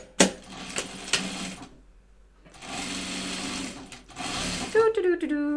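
A sewing machine runs bursts of stitching to bind a medical mask. Clicks and pauses separate the runs, and a brief voice comes near the end.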